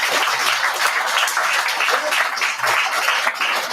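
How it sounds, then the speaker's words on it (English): Audience applause at a graduation ceremony, a dense, steady wash of many hands clapping that holds at an even loudness throughout. "Give her a round of applause."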